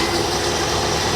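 The engine of a 1988 Bayliner Avanti 3250 yacht at low idle after sitting for over six years, giving a steady, close, low rumbling drone with no break.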